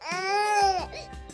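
A recorded real infant's cry plays from a Real Care Baby simulator doll, one sustained wailing cry breaking into a shorter sobbing catch, close and clear.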